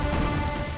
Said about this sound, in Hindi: वो हम पर पानी डाले जा रही है